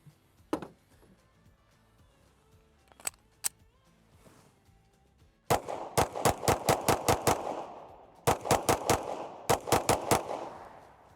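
Shots from a Canik MC9 Prime compensated carry pistol: a few isolated sharp reports, then rapid strings of loud, close shots fired in quick bursts with short pauses between them.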